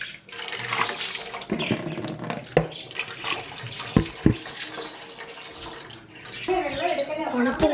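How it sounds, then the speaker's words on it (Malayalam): Tap water runs and splashes while a fish basket is washed under it in a home sink, with uneven gushing and sharp knocks as the basket moves, and people talking at times. "പിന്നെ ഈ ബാസ്ക്കറ്റ് ഒന്ന് കഴുകിയെടുക്കണം."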